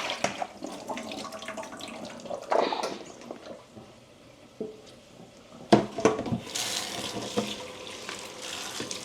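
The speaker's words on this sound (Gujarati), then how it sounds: "એક વખત ગરમ પાણી નાખી દઈએ" A kitchen tap runs while cauliflower is washed in a sink, the water flow rising and falling with splashy bursts and handling clatter, close and moderately loud, no talk.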